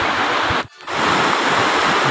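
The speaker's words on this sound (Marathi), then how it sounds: "हे बघू शकतो तुम्ही पाणी कसला फ्लो आहे, या पाण्यातून आपण जाऊच शकत नाही पुढे." Strong river water rushes near Tapalwadi waterfall at Neral, a loud, dense, continuous roar close by that cuts out briefly for a moment before resuming, with no speech.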